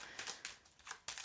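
Tarot cards being shuffled, quick soft riffling flutters in several short bursts, close and faint.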